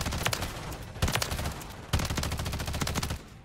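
BAL-27 assault rifle in a video game firing three rapid automatic bursts, each a dense loud rattle of shots, the last burst longest.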